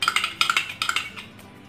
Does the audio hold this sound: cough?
no